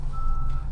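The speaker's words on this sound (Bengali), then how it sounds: "আর সিট বেল্ট আমরা পরিনি যার কারণে আওয়াজ হচ্ছে।" A steady electronic seat belt warning tone sounds inside a Maruti Suzuki Swift Dzire over a low engine rumble.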